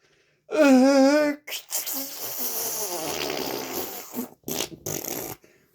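A voice imitates fart sounds, starting with a loud buzzing vocal raspberry, followed by a long breathy sputtering noise and a few shorter bursts separated by brief pauses.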